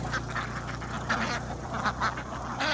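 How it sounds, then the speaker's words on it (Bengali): Several native egg-laying ducks quack in a busy, overlapping cluster, steady nasal calls from a nearby free-range flock over a low background hum. "এগুলা সব ডিমের হাঁস দেখেন কত হাঁস"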